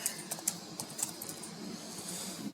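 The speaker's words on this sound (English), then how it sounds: "I'm just typing the title as revenue." Fingers tap on a computer keyboard, a quiet, close, irregular run of light clicks with a few sharper keystrokes and no talking.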